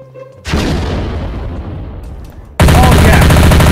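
A grenade explodes in a video game with a loud, sudden blast that decays over about two seconds, then a second heavy burst erupts and holds at full volume.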